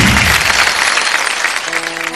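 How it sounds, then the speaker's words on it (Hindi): An audience at a stage performance gives a group loud applause, a dense burst of clapping heard alone and close throughout. "स्पीपा ग्रुप के लिए जोरदार तालियां।"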